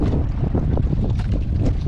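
Strong wind roars steadily across an open sea off an island, buffeting the microphone with low rumbling gusts and a faint wash of water beneath.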